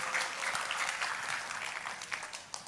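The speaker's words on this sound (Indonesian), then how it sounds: "Kita kasih tepuk tangannya pula yang paling meriah buat Tuhan." A church congregation claps for God in a dense, continuous burst of applause from many hands, steady and fairly close, with no speech over it.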